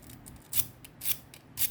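Scissors scrape back and forth across a cheap Daiso file-type sharpener in repeated rasping strokes, faint and close, about three strokes in under two seconds.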